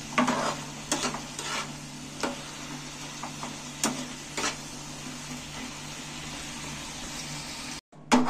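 Repeated scraping and stirring strokes of a utensil in a pan, irregular and fairly close, over a low steady background hum.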